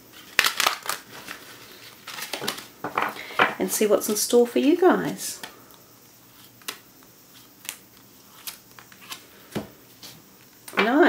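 Tarot cards shuffled by hand in a series of quick papery riffles and shuffles, close and crisp, with someone talking over parts of it.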